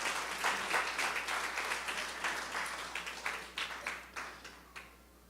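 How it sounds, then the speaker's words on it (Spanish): A church congregation claps in sustained applause through a worship service, the clatter steady and moderately loud before thinning into scattered, fading claps at the end. "Dale un aplauso al Rey."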